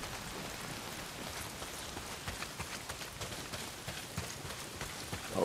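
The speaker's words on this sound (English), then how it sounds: "Not if it's pissing down rain." Heavy rain pours steadily in the game Days Gone, a dense, even hiss of drops hitting surfaces with no voices over it.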